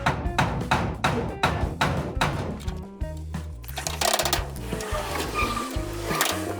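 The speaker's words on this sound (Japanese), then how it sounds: "こんな感じで曲がってるとこハンマーで叩きゃなんとかなると思うんですよね。" A hammer strikes bent sheet metal on an old, roughly forty-year-old Yodo steel storage shed, giving a run of sharp, loud clanging blows in quick succession followed by denser, uneven metallic knocks.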